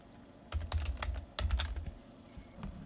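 Typing on a computer keyboard to name a new folder: two quick bursts of close, crisp key clicks with soft thumps, separated by a short pause, then a few scattered taps, quiet and alone.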